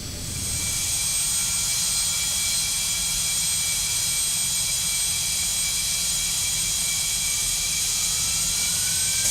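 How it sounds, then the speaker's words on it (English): Cessna Citation CJ2 jet engine starting in a flight simulator game, a steady, loud turbine whine with high sustained tones that builds up in the first second and then holds. "but we'll go ahead and get the other engine going"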